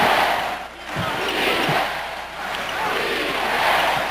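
A large arena crowd at an NBA playoff game between the Chicago Bulls and Orlando Magic chants for defense, a loud, dense, rising and falling roar filling the space with a few dull thumps underneath.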